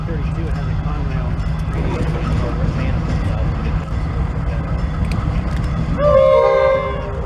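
A Norfolk Southern freight train at Simpson Yard in Jacksonville, Florida, rumbles steadily while people talk nearby, then sounds one short, loud horn blast near the end.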